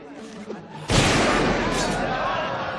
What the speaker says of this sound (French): Lors de la première prise, Indy dégaine et tire.